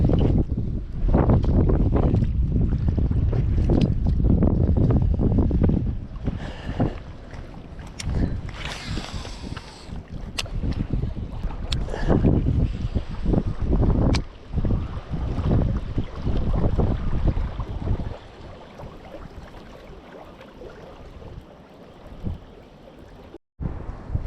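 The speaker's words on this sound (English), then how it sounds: "it's pretty windy, so I doubt the audio is gonna be any good" Strong wind buffeting an outdoor microphone beside a lake while bass fishing, a loud continuous low rumble with gusting surges that nearly bury everything else.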